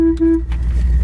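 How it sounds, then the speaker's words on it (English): A 1963 Ford Galaxie 500 convertible sounds its horn in one steady, loud honk lasting about a third of a second, followed by engine rumble and faint cabin noise. "Horn works."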